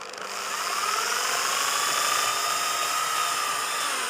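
A power drill drives self-tapping half-inch screws into wood, making a steady, loud, close whine that holds for several seconds after a quick spin-up.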